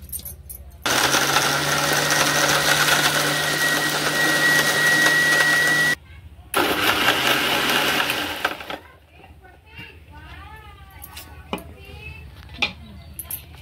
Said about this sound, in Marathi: आता आपण मिक्सर लावून घेऊया।